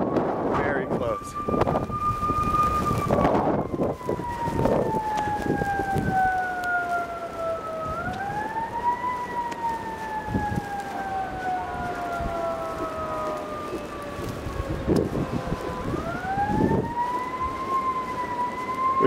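An emergency vehicle siren wails loudly and close by during a blizzard, its tone sweeping down and rising again in long slow cycles over steady wind noise, with voices talking in between.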